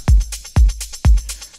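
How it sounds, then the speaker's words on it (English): Quick rolling hi-hat ticks patter between heavy kick drum thumps, forming a tight, repeating electronic beat. "And then we've got this rolling hat."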